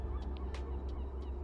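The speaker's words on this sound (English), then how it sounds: "And the Laughing Gull says hi." Laughing gull calling near the Cape Cod Canal, a few short nasal honking cries in quick succession over steady low background noise.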